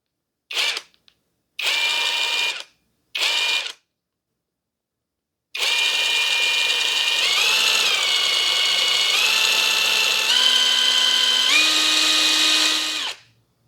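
A ProEuro impact wrench runs at maximum torque, starting with three short trigger bursts before settling into one long, loud, continuous whine whose pitch steps up and down, with no talk.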